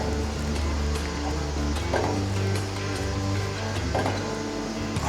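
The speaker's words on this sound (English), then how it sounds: "get the spring compressed on the compressor" A spring compressor squeezes a Bilstein 6112 coil spring for a 2010-2022 Toyota 4Runner strut, producing a steady mechanical whine with tonal hum and occasional clicks and ratchets, close and continuous.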